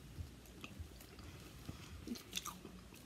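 Soft, wet chewing of a chewy UK candy up close, irregular squishy bites and faint crunches at a slow rhythm, quiet and without talk.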